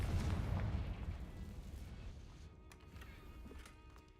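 A Confringo fire spell explosion in the video game Hogwarts Legacy, a quiet low boom that hits at once and rumbles away over a few seconds, with faint crackles trailing behind.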